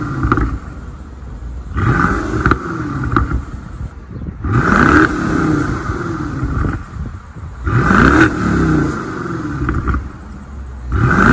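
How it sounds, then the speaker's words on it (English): A BMW 650i with a 445-horsepower twin-turbo V8 revs hard several times in a row. Each loud, throaty rise from idle falls back between bursts, close up, with no talking. "So I'm gonna give you guys a little rev action of this twin turbo V8."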